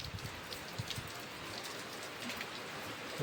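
Heavy rain pours down outdoors in a steady, dense hiss that stays loud and unbroken, with no voices over it.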